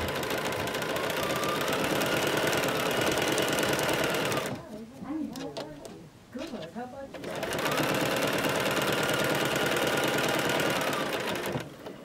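A sewing machine runs a straight stitch down the middle of a fabric strip rug with a loud, steady, close whir. It stops for a couple of seconds midway while a voice speaks, then resumes stitching.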